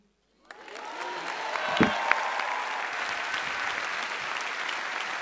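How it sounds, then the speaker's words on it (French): A crowd at a Génération·s political meeting breaks into sustained applause that starts abruptly and stays loud and dense, with a few cheers and a voice over the clapping. "vous pouvez les applaudir encore plus fort"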